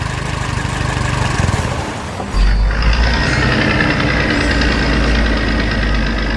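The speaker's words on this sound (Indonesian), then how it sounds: "Traktor merah itu melaju di jalan berlumpur dengan kecepatan yang menyenangkan" Red tractor driving on a muddy road, a loud continuous diesel engine rumble that briefly drops and then surges back heavier and steady.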